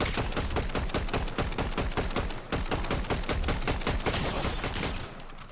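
Rapid gunshots from the video game Fortnite fire in a dense, nonstop close-range burst that runs through the whole stretch, loud and fast, and eases off only at the very end.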